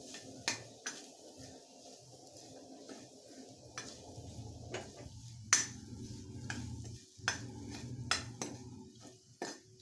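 Grated coconut and garlic sautéed with green chilies in a pan, a spatula scraping and clinking against the metal in irregular taps over a soft, steady sizzle, close by with no talk.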